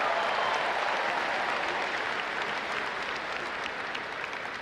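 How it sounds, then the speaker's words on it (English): Audience at the Syosset High School commencement ceremony at Hofstra University applauds in a steady, dense wash of clapping from a large crowd that continues evenly throughout and eases slightly toward the end. "Another round of applause, everyone."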